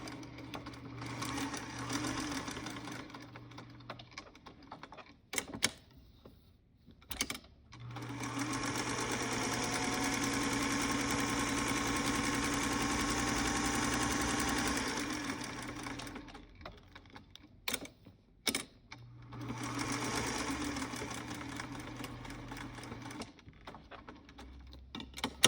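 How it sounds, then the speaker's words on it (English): A sewing machine stitches around the edge of a Ziploc bag in three long, steady whirring runs, separated by pauses and brief clicks and thumps as the fabric is turned. "I'm just going to stitch around the perimeter"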